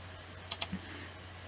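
A few quick keyboard keys are pressed for a CAD shortcut, three or so light clicks in rapid succession, soft and close against a quiet room hum.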